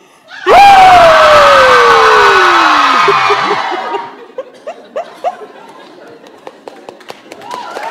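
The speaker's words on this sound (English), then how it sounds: "should we start off with a big collective cathartic scream?" A crowd at a feminist festival gathering lets out one loud collective cathartic scream that lasts about three seconds and slowly dies away. Scattered laughter and chatter follow.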